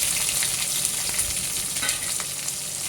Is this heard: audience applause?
no